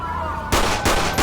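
Three sharp, loud video-game gunshots from a police mod for GTA V ring out in quick succession after a brief lull, each a broadband crack with a short tail, over low background hum.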